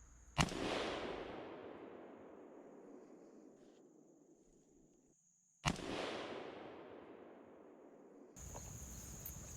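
Rifle fired at a whitetail doe about 80 yards away on a South Carolina hunt, two sharp loud cracks about five seconds apart, each followed by a long fading rolling echo through open country, no talking.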